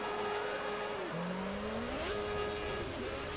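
Formula 1 car engines in a 1988-season racing video game roar and rev together at a fairly distant level, pitch dipping and then climbing as they pull away at the race start, with no voices.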